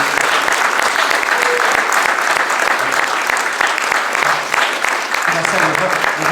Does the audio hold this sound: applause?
yes